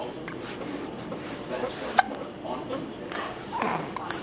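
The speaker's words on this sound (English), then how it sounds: "Got the hiccups?" A seven-week-old baby's hiccups, one short sharp hiccup standing out amid soft cooing and a parent's gentle talk close by indoors.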